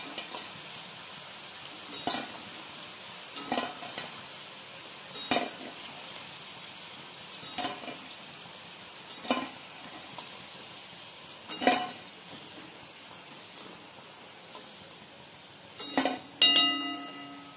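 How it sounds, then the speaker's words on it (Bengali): Soybean balls fry in hot oil with a steady sizzle while a utensil stirs them, scraping and clinking against the pan every second or two. "সবগুলোকে একসঙ্গে নেড়ে চেড়ে দিলে প্রত্যেকটাই ভেতর পর্যন্ত ভাজা ভাজা হয়ে যাবে"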